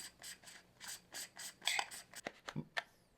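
PolarPro Helix threaded ND filter being screwed onto a camera lens, giving a run of small close-up ratcheting, grinding clicks in uneven bursts, with a few sharper taps toward the end and no talking.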